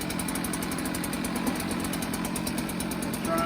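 A small two-stroke leaf blower engine runs steadily just after a quick start, the choke still on: a continuous buzzing idle, close and fairly loud, holding an even drone throughout with no talk over it.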